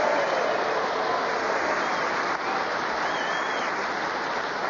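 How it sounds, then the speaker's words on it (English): An audience on the radio panel game Just A Minute claps warmly for the week's winner, Clement Freud, a dense, steady round of applause that holds evenly throughout, slightly muffled as if broadcast. "let's have a big round of applause for the winner this week"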